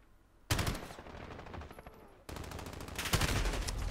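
Rapid gunfire from a first-person shooter video game, two dense bursts of shots that start abruptly and fill the clip, loud and close with no talk over them.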